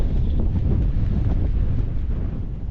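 Strong wind buffeting the microphone at a winter mountain wild camp in the Lake District, a loud, steady low roar with gusty surges throughout and no voices.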